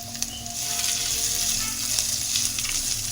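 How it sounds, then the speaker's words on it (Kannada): Finely chopped onions fry in hot ghee with a dense, continuous sizzle, loud and close, with faint stirring clicks scattered through the steady crackle. "ಇದೆಲ್ಲ ಫಸ್ಟ್ ತುಪ್ಪದಲ್ಲಿ ಚೆನ್ನಾಗಿ ಫ್ರೈ ಆಗಬೇಕು ಫ್ರೈ ಆದ ನಂತರ ಒಂದು ಸಣ್ಣಗೆ ಹೆಚ್ಚಿ ಇಟ್ಕೊಂಡಂಥ ಈರುಳ್ಳಿನ ಸೇರಿಸ್ತಾ ಇದೆ"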